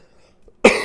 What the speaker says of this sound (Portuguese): Peço desculpas pela tosse.